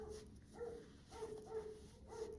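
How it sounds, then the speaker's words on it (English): Dogs in an apartment building bark in a quick, muffled series of five or six yips, faint and distant behind walls. "They're probably just barking at a friggin' bird."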